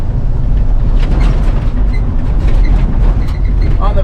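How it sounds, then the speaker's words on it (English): An old truck jolts along a rough road in Arkansas, with a dense, continuous rattle and clank of loose metal over a heavy rumble, loud and close throughout. "You can kind of hear how rattly and clanky this truck is"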